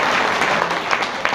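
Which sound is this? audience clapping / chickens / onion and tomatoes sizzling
audience clapping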